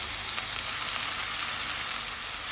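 Onion sizzling in three tablespoons of hot vegetable oil with a little salt, a dense, even frying hiss that carries on unbroken and close up, with no one talking.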